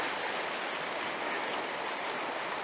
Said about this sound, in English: This is Blue Creek. I gotta cross this.